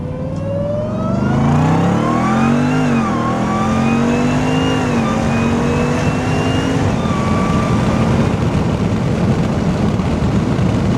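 A Jeep Grand Cherokee Trackhawk's supercharged engine roars under hard full-throttle acceleration, revs climbing steeply through the gears, loud and close, then settling into a sustained drone.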